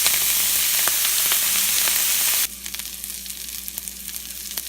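Food browning in a hot pan for a low-carb breakfast burrito, a loud, dense sizzle that abruptly drops to a quieter, crackling fry partway through.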